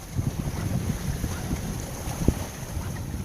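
Oday 272 sailboat cruising under tiller pilot on the Pacific Ocean, with strong steady wind buffeting the microphone over water rushing and sloshing along the hull and a single soft knock.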